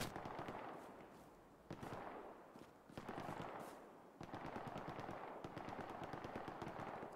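Video game gunfire in rapid automatic bursts fills the whole stretch, with dense rattling volleys broken by brief gaps before the shooting picks up again.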